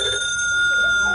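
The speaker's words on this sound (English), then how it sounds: "I hadn't been there 2 minutes before the phone rang." An old-fashioned telephone bell rings as a 1950s radio crime drama sound effect, a steady sustained metallic ring heard close and alone over a faint background hum.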